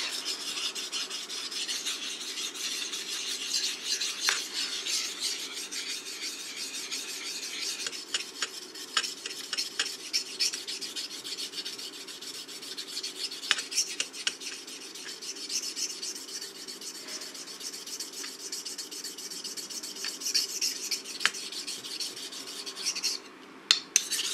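A sashimi knife blade is sharpened on a whetstone with steady, close scraping and rasping strokes that repeat in an even rhythm for more than twenty seconds, with no talking.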